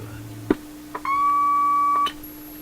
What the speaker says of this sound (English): that funny sound, that unclear sine wave sound, is probably just my signal generator